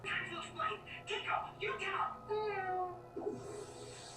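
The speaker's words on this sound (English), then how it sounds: "And he meowed." A cat meows in a clip from the animated series Young Justice, several drawn-out, wavering mews mixed with overlapping voices, fairly close but not loud.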